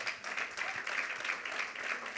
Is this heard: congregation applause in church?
yes